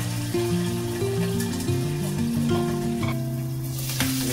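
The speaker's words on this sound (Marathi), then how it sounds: "आता मिरच्या टाकलं की मी पटकन झाकण लावून घेणार आहे." Green chilies sizzle loudly in hot oil in a pan for Maharashtrian mirchi thecha, a dense crackling fry under a bright tonal hum that sounds like a musical backing, with no voices.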